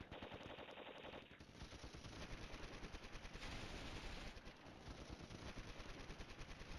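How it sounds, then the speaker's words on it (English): Sustained rapid gunfire at a helicopter in a video game, rattling continuously, dense bursts of automatic shots with booming impacts, loud and unbroken throughout with no talking. "Now they decide to shoot at that helicopter."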